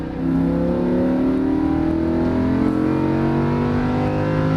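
A Lamborghini Huracan on a racetrack pulls hard at full throttle, its engine note climbing in a loud, continuous rising roar heard close from inside the car.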